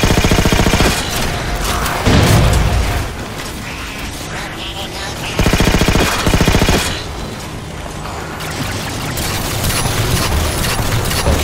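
Rapid automatic gunfire in the video game Halo 4, coming in loud, dense bursts that rattle on and off, with mechanical clatter between volleys.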